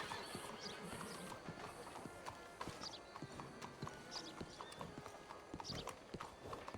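Horse hooves in Red Dead Redemption 2 clip-clop in a steady walking rhythm, with crisp repeated knocks over faint background noise.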